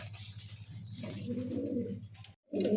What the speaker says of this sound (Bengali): আরো এক জোড়া রেড কালার ম্যাকপাই কবুতর ভাই